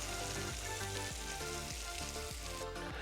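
A sea bass fillet fries in a pan, producing a dense, even sizzle throughout with faint periodic scrapes or shifts roughly every half second, moderately quiet and with no voices.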